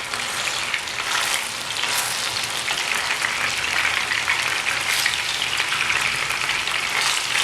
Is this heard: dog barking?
no